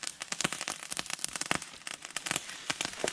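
Rocks heated in a campfire crack and burst, giving rapid, irregular sharp pops and crackles. The sound is close but fairly faint and keeps up without a break.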